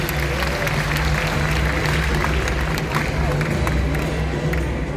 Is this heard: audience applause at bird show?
yes